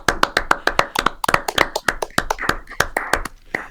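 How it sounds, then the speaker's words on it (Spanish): A small group claps close by in quick, uneven rhythm, the individual handclaps sharp and distinct, with faint voices underneath. "la aplaudimos a ella"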